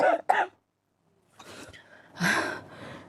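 A person coughs and clears their throat, with short harsh bursts at the start, a brief pause, then rougher throaty coughing and breathy sounds, close to the microphone.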